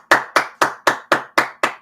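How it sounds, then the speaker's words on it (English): Eight sharp, evenly spaced claps ring out loud and close, one person's hands striking in a steady rhythm with no talking over them. "Everyone applaud."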